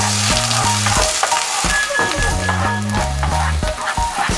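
Onion, garlic and ginger sizzling in hot oil in a pan, a loud steady frying hiss throughout, with music playing underneath.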